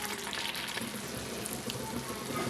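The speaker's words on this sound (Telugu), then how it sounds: "గ్రేవీ చిక్కపడే వరకు ఉడకనివ్వాలి కూర చక్కగా ఉడుకుతుంది" A capsicum gravy curry simmers and bubbles in a pan on the stove, a close, continuous soft sizzle and popping with no voices.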